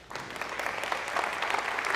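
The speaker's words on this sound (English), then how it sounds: "Give yourself a round of applause." An audience claps together in a steady, dense round of applause at a motivational talk, filling the moment for about two seconds without voices on top.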